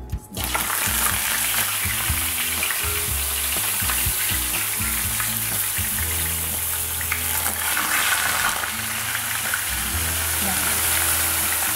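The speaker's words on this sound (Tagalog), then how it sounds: "Mainit na po ang kawali, ipiprito na natin ang isda." Loud, continuous sizzling and crackling of fish frying in a hot pan, steady throughout, with some background hum and clatter.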